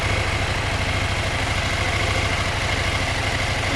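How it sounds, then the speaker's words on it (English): A KTM 790 Adventure motorcycle with its stock exhaust idles steadily at close range, a loud, even engine throb running without pause and with no voices over it. "one of the things that I've been least impressed with on my wonderful bike, which I love, is the stock exhaust"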